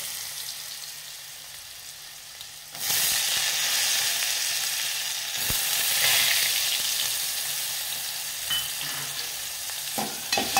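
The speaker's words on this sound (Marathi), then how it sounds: "मोहरी टाकूया, जिरं टाकूया, थोडीशी हळद आणि भिजवलेली मुगाची डाळ टाकूया।" Mustard seeds, cumin, turmeric and soaked moong dal dropped into hot oil, bursting into a loud, steady sizzle after a quieter start, with stirring sounds and fresh crackles near the end and no one speaking.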